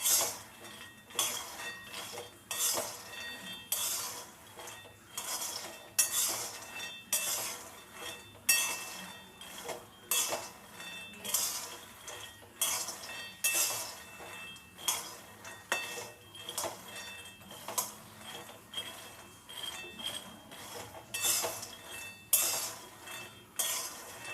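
A spoon scrapes and clinks repeatedly against a pan as peanuts are dry-roasted and stirred for peanut laddoos, in a steady rhythm of metallic strokes with soft rattling between them.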